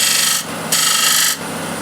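A small ball gouge cuts into timber spinning on a wood lathe, a loud close hissing rasp in two bursts with a quieter scrape between them.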